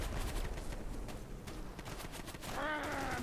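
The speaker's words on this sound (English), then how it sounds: "Notice I'm getting shot at." Gunfire crackles through a WW2 battlefield in the sandbox shooter Easy Red 2, a dense fusillade of distant shots rattling steadily over loud ambient noise, with a rising whine joining near the end.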